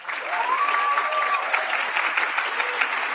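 A large crowd applauds at a medal ceremony, steady dense clapping throughout with a faint voice line briefly rising over it early on.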